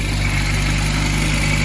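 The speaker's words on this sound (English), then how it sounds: "It's idling a little high" A 1955 Triumph TR3 roadster engine idles slightly high, giving a steady, close, even low rumble with a fine regular pulse throughout.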